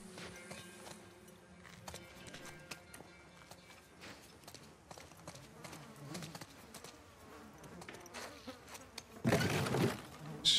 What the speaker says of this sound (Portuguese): Estou a ouvir é moscas.